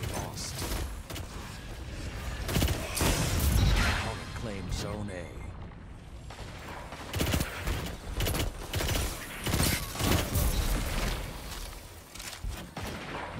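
Gunfire in a Bungie first-person shooter, sharp shots and heavier blasts in uneven bursts mixed with mechanical clanks and creaks, surging loudly at intervals.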